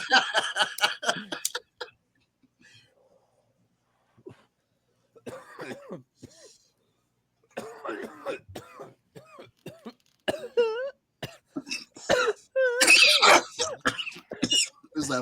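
Someone coughs repeatedly in rough, close bursts mixed with throat clearing while smoking weed, with short silent gaps between fits and some voices or chuckling among them.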